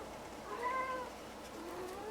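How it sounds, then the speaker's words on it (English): A house cat meows insistently, one drawn-out wavering cry followed by a fainter tail, close by in a quiet room with no talking. "my cat's screaming at me"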